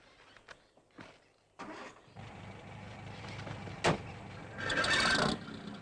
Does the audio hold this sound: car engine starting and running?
yes